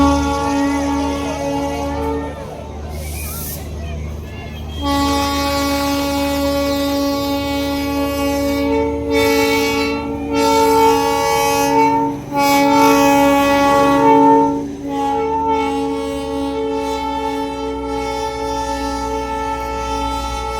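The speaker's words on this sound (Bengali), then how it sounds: "আজকে তোমাদেরকে একদম সামনে থেকে সুন্দর করে টয় ট্রেনের একদম ভিডিওটা শেয়ার করতে পারলাম।" The Darjeeling toy train rumbles past close by, sounding its horn in long, loud blasts, with rolling wheel and carriage noise between the horn calls and no talking.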